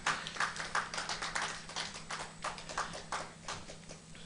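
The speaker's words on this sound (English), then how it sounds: "Please, a round of applause for her." A live-streamed audience gives a woman a round of applause, quick, fairly faint claps in a brisk, uneven rhythm heard alone.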